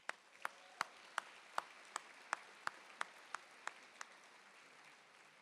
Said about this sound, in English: Do me a favor and just give yourselves a round of applause